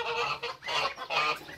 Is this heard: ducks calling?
yes